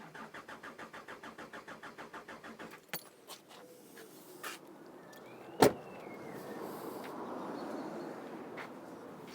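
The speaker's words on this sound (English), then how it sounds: "Right, so put the key off, but then we'll crank it over." A Hyundai Santa Fe with low fuel pressure cranks without starting: a rapid, even starter whirr for about three seconds, then it cuts out, followed by a few clicks and a background hiss.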